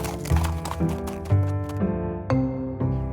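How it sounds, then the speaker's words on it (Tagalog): A horse moves with rhythmic hoof clops in a steady pattern, the strikes evenly spaced and fairly close, with no other voices. "Ito si Toto, ang alaga naming kabayo."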